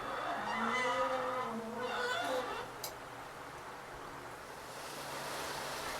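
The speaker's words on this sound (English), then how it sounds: "we're getting a nice little shower here in Venice, Florida" A light rain shower falls outdoors in Venice, Florida, near a gas grill: a steady, broad hiss of rainfall lasts throughout, with a voice speaking over it at first.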